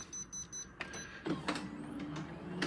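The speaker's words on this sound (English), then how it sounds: "It's quite quick because obviously it's a laser." A laser printer runs through a print job, with a pulsing mechanical whir at first, then clunks, rolling feed noise and a rising motor hum, fairly close and with no talk.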